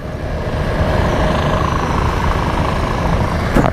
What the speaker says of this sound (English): I have a bit of helicopter action below us.